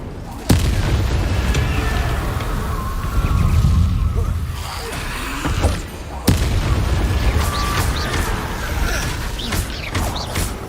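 Incendio fire spell cast in the Hogwarts Legacy video game: a sudden sharp burst opens a sustained roaring, crackling rumble, a second strong impact hits midway, and dense fiery game noise continues throughout.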